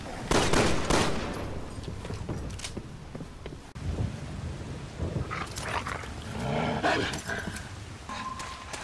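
Gunfire and a growling, barking dog in a cemetery in the video game Resident Evil 6, heavy bursts of shots and rumbling over about nine seconds, dense and loud with no pause.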